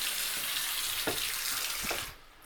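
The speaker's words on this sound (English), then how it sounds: "the sink, and you got again very good water pressure" A bathroom sink tap in a one-bedroom unit runs with strong water pressure, giving a steady close hiss of flowing water that cuts off near the end.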